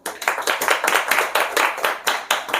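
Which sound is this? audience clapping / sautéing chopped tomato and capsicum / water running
audience clapping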